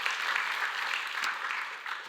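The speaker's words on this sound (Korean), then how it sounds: "그분들에게 감사와 격려의 박수 한번 하겠습니다" A church congregation claps in thanks and encouragement: a dense, steady wash of applause at moderate volume, continuing evenly for a couple of seconds.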